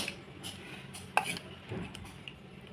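A spoon stirring tamarind juice into pulihora rice in a pan, giving soft scraping and occasional light metallic clinks against the pan, close but fairly quiet over a low background hum.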